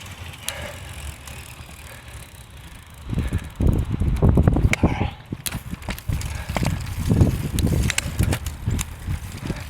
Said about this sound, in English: Now the wind is going with me.